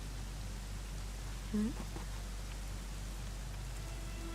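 Steady rain falls in the video game Dragon Quest XI, a soft, even hiss that continues throughout at low volume, with a brief faint voice near the middle.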